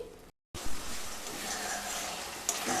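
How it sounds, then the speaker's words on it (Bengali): Spice masala frying on low to medium heat for a cauliflower and egg curry, a steady close sizzle with scraping stirs, broken by a brief silent gap near the start. "এবার মশলাগুলোকে লো টু মিডিয়াম স্টিমে ভালো করে কষিয়ে নিয়ে তারপর ফিরে আসছি।"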